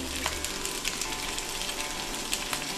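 Prawns sizzle and fry steadily in a pan for chilli garlic prawns, a dense continuous crackle with small pops, close and loud, with no voices.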